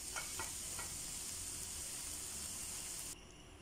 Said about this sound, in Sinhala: කරපිංචා ටික, අමු මිරිස් ටික, තක්කලි ටිකත් මේ වෙලාවේ එකතු කරගන්නවා මම.